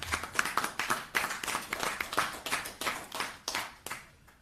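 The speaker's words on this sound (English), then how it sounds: "And I ask us to give him an applause." Steady applause from a crowd, many hands clapping together at a brisk, even pace, fading slightly toward the end.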